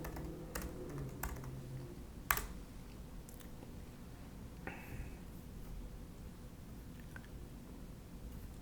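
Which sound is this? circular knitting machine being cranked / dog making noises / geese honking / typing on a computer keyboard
typing on a computer keyboard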